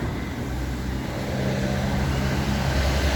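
Steady street traffic heard from the roadside while walking along a city avenue, cars rolling past in a continuous, fairly loud broadband rumble with no one talking.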